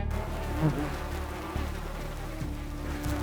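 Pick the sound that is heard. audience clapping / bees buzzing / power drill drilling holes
bees buzzing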